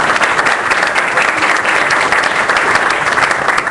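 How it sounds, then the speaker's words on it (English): Dense, steady applause from a live audience at a LA2M tech meetup, welcoming speaker David Bloom; loud and continuous throughout with no talk over it. "So please give David Bloom a warm round of applause"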